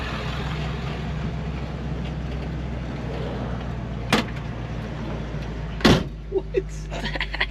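A 1966 Ford Mustang's door clicks open in two sharp, brief thunks over a steady low idle rumble, followed by a few softer knocks and rattles close by.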